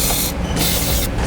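Glass cleaner sprayed from a trigger bottle onto rubber strips of a WingLine laser snow plow guide on a municipal plow wing, heard as three close, sharp hissing bursts in quick succession.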